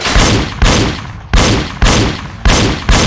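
Loud gunshots from a Wii light gun game, six heavy blasts at a steady, even pace, each with a short decaying tail.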